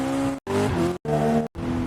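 A car drifting through a city in an AI-generated movie: loud tire squeals and engine whine in three or four sustained bursts separated by brief silent cuts.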